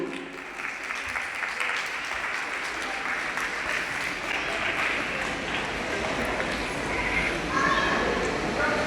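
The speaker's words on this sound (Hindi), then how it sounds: "तालियां बजती रहनी चाहिए आपकी" An audience at the opening ceremony of an international Down syndrome conference in Lucknow claps continuously in a thick, even wash of applause that lasts throughout, with faint voices beneath.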